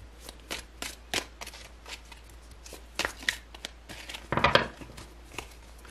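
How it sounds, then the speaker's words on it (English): Tarot cards being shuffled by hand, a series of quick riffling and slapping bursts, close and fairly crisp, with no talking. "These cards are hard to shuffle"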